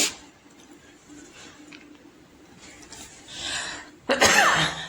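A person with a sore throat coughs once, loudly and up close, in one short harsh burst near the end, after a few seconds of faint room noise.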